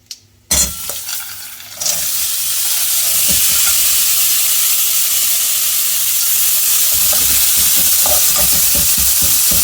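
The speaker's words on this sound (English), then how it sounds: "I'm first adding the frozen green peas." Frozen green peas tipped into a hot pan sizzle loudly and steadily with a bright hissing fry, after a few initial clatters of the pan, with occasional stirring scrapes underneath.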